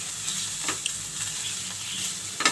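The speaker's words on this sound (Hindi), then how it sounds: "खोए को भी हल्का सा हमने इसका कच्चापन ख़त्म करना है, यानी कि थोड़ा सा हम फ्राई करेंगे" Khoya fries in a pan for matka kulfi, giving a steady, close sizzle with light scraping and stirring clicks throughout, no voice over it.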